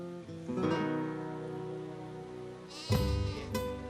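Several sheep bleat, their wavering calls overlapping over a steady background, with a louder burst of bleating near the end, as a flock grazes in the Catalan Pyrenees mountains.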